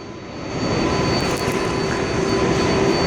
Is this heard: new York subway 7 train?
yes